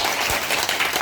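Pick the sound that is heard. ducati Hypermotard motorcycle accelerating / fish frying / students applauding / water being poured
students applauding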